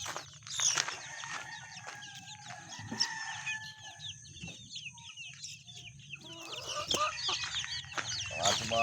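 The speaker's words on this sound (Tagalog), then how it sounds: "Ang ating mga manok na nagugutom na." Hungry chickens clucking and calling close by at a farm, with busy overlapping clucks and cackles throughout and a rooster-like crow among them, over low background noise.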